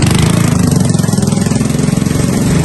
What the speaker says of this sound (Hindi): एक और बाइक आ गई, सही है।